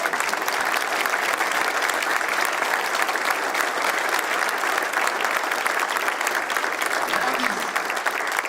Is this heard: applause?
yes